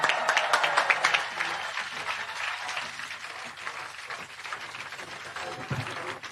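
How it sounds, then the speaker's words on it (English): Audience applause at an outdoor nature restoration demonstration greets the RSPB president, dense clapping loudest at the start, then thinning to a steady crowd patter with scattered cheers. "Round of applause."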